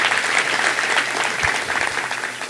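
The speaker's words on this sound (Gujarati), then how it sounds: "જોરદાર તાળીઓથી વધાવી લો" A crowd at a Gujarati bhajan program breaks into loud, dense applause with a faint murmur of voices beneath it.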